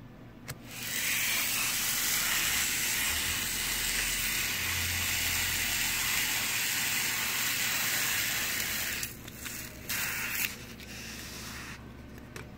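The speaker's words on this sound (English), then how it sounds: "you just run it through the machine, and look at that beautiful slice." A 2-inch foam tape splitter machine slices a strip of foam tape in one continuous run, making a loud, steady hissing, whirring rasp with brief clicks near the end.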